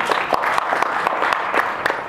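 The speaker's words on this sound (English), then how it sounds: "That's a round of applause," A small crowd at a 2016 Kitsap Patriots Tea Party picnic claps outdoors, a brief patter of loose, uneven hand claps lasting about two seconds.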